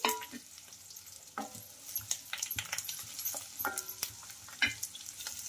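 Sliced onions sizzle in hot oil as a spoon stirs and scrapes the pan, with scattered clicks and pops close by; no one speaks.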